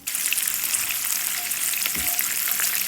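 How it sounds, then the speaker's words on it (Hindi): Ginger sizzling in melted butter in a pan, a dense continuous crackling fry that stays loud and close for the whole stretch, with no voices. "बटर मेल्ट हो रहा है, साथ ही मैं अदरक डाल देती हूँ।"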